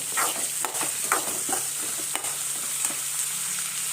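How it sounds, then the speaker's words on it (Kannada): Horse gram masala ingredients frying on a high flame in a pan: a continuous close sizzle with frequent scraping strokes of a spoon stirring, and no voices. "ಹೈ ಫ್ಲೇಮಲ್ಲೇ ಇಟ್ಟು ಚೆನ್ನಾಗಿ ಫ್ರೈ ಮಾಡ್ಕೊಳ್ಳಿ ಈ ರೀತಿ."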